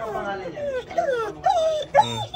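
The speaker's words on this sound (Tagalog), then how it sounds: "Ang isang aso tila naiyak nang dumating na sa wakas ang saklolo." A dog rescued from an illegal dog-fighting operation whimpers in a series of high, wavering whines with rising and falling pitch, several short cries close by across a couple of seconds.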